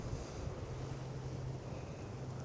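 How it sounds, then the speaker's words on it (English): Steady wind roars across an outdoor microphone on a cold, blustery day, a constant broadband rush with low buffeting rumble and no voices. "Real windy, coldy day out here."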